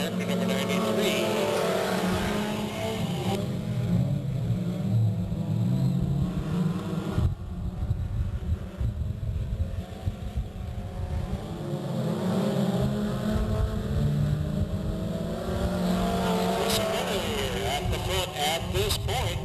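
Race cars roar around Delta Speedway, a speedway track, in 1998, their engines a loud continuous drone that swells and fades as the pack circles, with a race announcer talking over it throughout.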